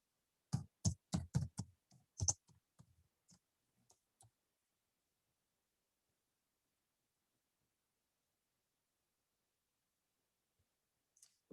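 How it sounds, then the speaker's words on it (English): Keys on a computer keyboard are tapped in a quick burst of crisp clicks, then a few sparse taps trail off into a long silence. "you're going to type in online voice recorder"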